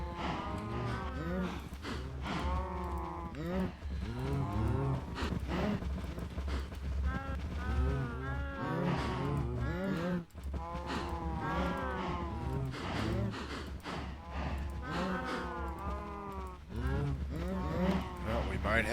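Cattle in the Minecraft Blightfall modpack moo over and over, loud, layered calls overlapping in near-constant succession against a steady low hum, several animals calling at once with barely a pause.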